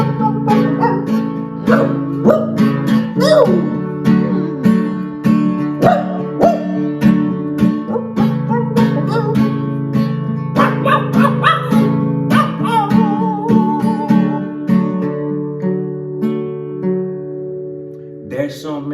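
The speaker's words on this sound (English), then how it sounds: "You hear that? It's the dog" A dog barks and whimpers again and again over a continuous melodic music track. The barks are close and clear, with a voice now and then.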